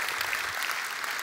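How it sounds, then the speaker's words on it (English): A church congregation claps together during a service, a brief burst of dense, steady clapping heard alone. "Let's clap all together."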